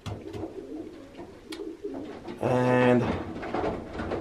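A Devriendt racing pigeon cock coos inside a box, a loud, resonant burst near the end with softer rustling before it; a brief spoken word comes just before the coo.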